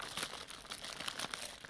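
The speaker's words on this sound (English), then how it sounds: "I cut them open with the scissors and I'm just gonna pour them in here" Wrapped hard candies, just cut open with scissors, tumble into a container with a close, continuous crinkling and rustling of plastic wrappers and light clicking of candy.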